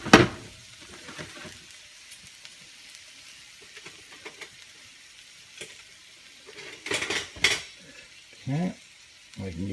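Ginger tossed and stirred in a pan for pad Thai gives a soft sizzle under sharp scrapes and clatters of a utensil against the pan, close and intermittent, with a brief voice.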